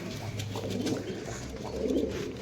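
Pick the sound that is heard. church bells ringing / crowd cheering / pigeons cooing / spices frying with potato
pigeons cooing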